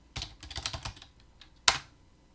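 Keystrokes on a computer keyboard typing a command into Command Prompt: a quick burst of about seven clicks, then a pause and a single louder keypress, likely Enter. The sound is close and there is no talk.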